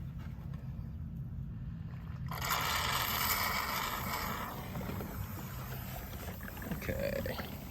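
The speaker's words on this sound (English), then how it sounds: "I'm gonna suck this up that's in this Tupperware down here." Drained generator oil is drawn up out of a Tupperware container by suction, giving a steady, close hiss and gurgle that grows louder midway and then settles into a softer slurping scrape.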